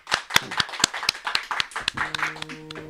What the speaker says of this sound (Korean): 큰 박수 환영해 주십시오